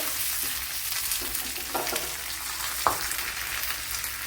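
Curry leaves and dried red chillies frying in hot oil, a dense continuous sizzle with occasional small pops and crackles, close and fairly loud, no voices.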